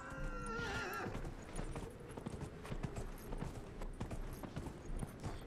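Horse in Dragon Age: Inquisition, a loud whinny at the start followed by steady clip-clop of hooves on the ground, rhythmic and fairly close, with no talking.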